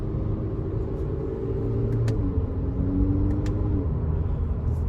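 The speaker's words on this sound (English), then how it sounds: "Now I'm using the paddle shifters." A 2021 Acura ILX A-Spec accelerates from inside the cabin, its engine a steady low rumble with a tone that rises and then shifts as the paddle shifters change gears. A couple of faint clicks come through, and no one talks.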